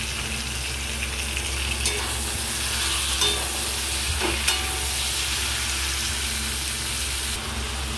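Chicken frying in a pan for chicken curry, a loud continuous sizzle with occasional scrapes and knocks of stirring, close and steady throughout.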